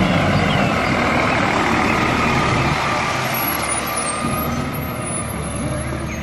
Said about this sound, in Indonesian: Wah, truk sampah,